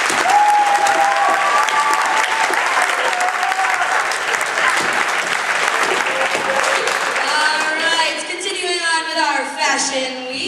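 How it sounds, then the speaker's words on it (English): Dense audience applause at a high school cafe concert fills the room, loud and continuous, then thins toward the end as scattered cheers and a few voices rise over it. "Let's give them another round of applause."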